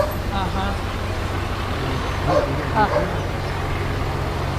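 A police dog barks in a run of short, sharp yaps, fairly distant and partly buried under steady roadway traffic noise and a passing bus or truck.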